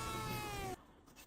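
A cat in a meme gives a single drawn-out meow, close and fairly loud, that cuts off abruptly after under a second.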